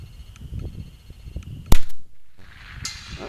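A single sharp crack from a Savage Mk II FV-SR rifle shooting at a 200-yard target, close and loud, followed by a short decaying echo over quiet outdoor background.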